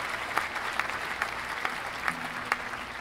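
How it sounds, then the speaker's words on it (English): Applause sound effect played during a talk about the Martin DSS-17 guitar: a short canned burst of crowd clapping, fairly quiet and even, with a few sharper claps standing out at regular intervals. "That deserves a round of applause"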